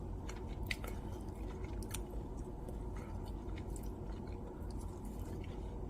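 Someone eats tender Korean pan-fried beef jeon, with soft, close, quiet chewing and moist squishing sounds and a few faint clicks throughout, with no talk.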